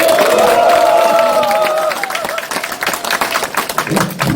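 A voice speaks at a political lecture event before the audience breaks into clapping and scattered cheering, loud at first and then settling into uneven bursts.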